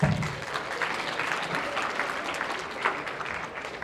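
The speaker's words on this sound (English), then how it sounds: "give him a round of applause" Steady applause from a crowd of people clapping, moderately distant and even throughout, with no one speaking.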